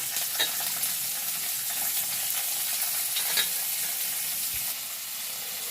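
Onion and capsicum sizzle and fry in a hot pan for crispy chilli baby corn, a steady close crackling hiss broken by occasional stirring scrapes and taps.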